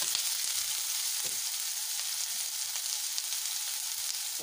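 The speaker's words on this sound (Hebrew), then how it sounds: "כשהשמן חם אני מוסיף פנימה בצל אחד" Sliced onion frying in hot olive oil over high heat, a steady, close, continuous sizzle and crackle with small pops, heard alone without talk.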